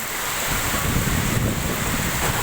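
Strong typhoon wind roars continuously, buffeting the microphone with a heavy, rumbling rush and no pauses.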